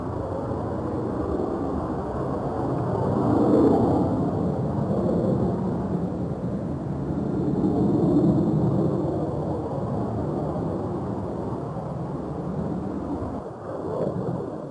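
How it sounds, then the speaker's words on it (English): A T-33, one of the first US military jet aircraft, roars past in a broad continuous rumble that swells, eases and swells again before cutting off near the end, with no talk over it. "It was one of the first jet aircraft made in the USA, which was used extensively in military service. The jet is called a T-33."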